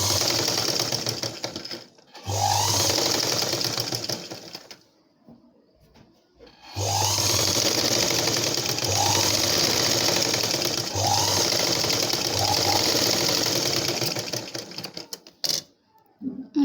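A sewing machine stitches blouse fabric in loud, steady runs of rapid clatter, stopping briefly between passes and starting again, close to the listener.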